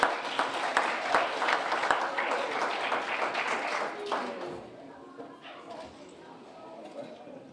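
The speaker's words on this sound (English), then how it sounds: "So let's give him another round of applause as he comes up." A large audience applauds a keynote speaker as he comes up to the stage, with loud, dense clapping that fades into quieter scattered claps.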